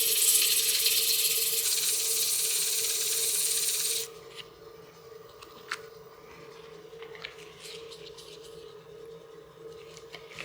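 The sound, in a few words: sanding a wooden tenon by hand on the lathe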